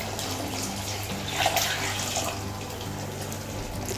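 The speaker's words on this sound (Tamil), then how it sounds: "இப்போ நம்ம கறி வேக வச்சு எடுத்து வச்சுருக்க அந்த தண்ணியை இதோடு சேர்த்துக்கலாம்." Mutton cooking water poured into a pot of potato curry gives a steady splashing, running-water sound that holds evenly throughout, with a brief louder surge near the middle.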